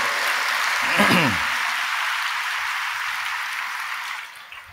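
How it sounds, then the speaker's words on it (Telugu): A church congregation claps during a sermon, a broad wash of many hands that swells briefly as a voice rises over it, then settles into steady applause that thins toward the end. "నీకు అర్థమైతే చప్పట్లు కొట్టి దేవుని మహిమపరచు."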